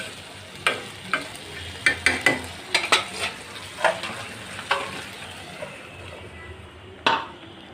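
Taro corms being stir-fried in a pan, with a spatula repeatedly clinking and scraping against the metal over a low sizzle, in a steady, irregular rhythm of close strokes.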